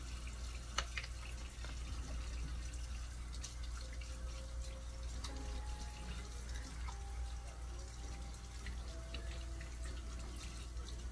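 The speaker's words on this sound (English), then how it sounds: "I'm gonna get my hand washed a little before we touch this food" Water runs steadily from a kitchen tap while hands are washed beneath it before handling food, a quiet continuous stream with faint splashes and clinks.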